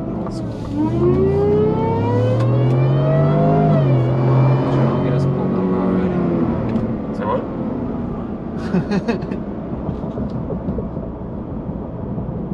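A 2021 Ford F-150 5.0L truck engine with a Whipple supercharger, its high supercharger whine climbing in pitch as it revs, then easing off while people talk and laugh nearby.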